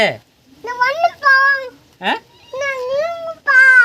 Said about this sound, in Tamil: பூனை வந்துட்டு பாரு.